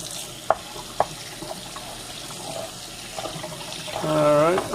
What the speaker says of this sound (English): move it over to the sink, where I will rinse it off